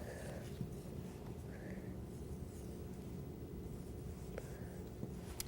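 The word light is written by hand, a soft pen or pencil scratching in short strokes on paper, close and quiet over a low background hum with faint voices.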